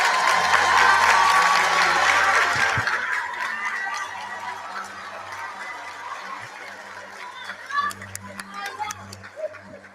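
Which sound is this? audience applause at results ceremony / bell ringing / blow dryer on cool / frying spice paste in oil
audience applause at results ceremony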